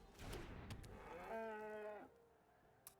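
Cartoonish cow moo from the card game Magic the Gathering: Arena, a single drawn-out low moo heard clearly over a soft game background, followed by quiet.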